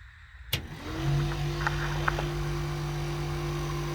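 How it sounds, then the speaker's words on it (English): Small electric fan in a camper clicks on, then its motor settles into a steady, fairly loud whirring hum close by, with a few faint taps over it. "I just got the fan wired up, and I don't know what to think about it."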